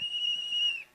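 A single steady, piercing whistle from a person holds one pitch for nearly a second, close and fairly loud, then cuts off abruptly.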